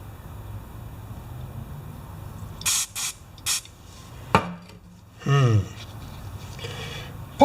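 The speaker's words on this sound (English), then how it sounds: "we take said can of spray" Short bursts from an aerosol spray can aimed at a Mikuni carburetor on an older John Deere 14SE mower, three quick hisses followed by a clunk and a longer spray, close up.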